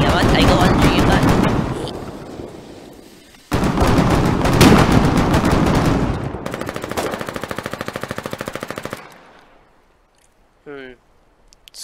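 Gunfire in the video game Foxhole: dense, loud bursts of rapid automatic fire, then a stretch of steady rhythmic shots that fade out, with voices talking over the fighting.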